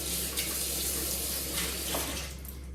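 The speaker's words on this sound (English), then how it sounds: "I just give them a little rinse." Tap water runs steadily into a sink as fingers sticky with apple pie dough are rinsed, a continuous close splashing hiss with brief surges of louder flow.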